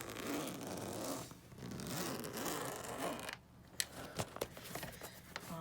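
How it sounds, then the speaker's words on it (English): A zipper on a Hoover Legacy vacuum cleaner is worked in a close, faint scratchy rasp, then a few sharp clicks and creaks against a steady noisy background. "And then you see we got a zipper over here."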